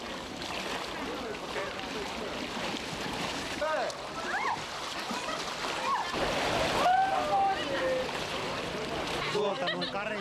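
Swimmers splash into the cold Baltic Sea off Finland, with steady churning water and surf-like wash, close by and continuous, with voices and shouts mixed in.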